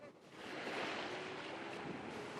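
Small ocean waves wash onto a beach at Phuket, a soft, continuous surf rush that swells in after a quieter start, with wind noise and no speech.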